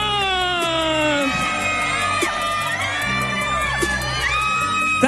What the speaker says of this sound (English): Let's give him another round of applause, James Yang.